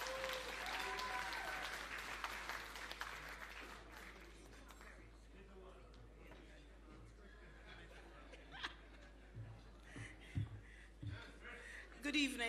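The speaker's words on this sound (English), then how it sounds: "Will you clap her, please?" An audience at an awards ceremony applauds, a broad rush of clapping that thins out over several seconds, with some laughter and a few louder thumps near the end.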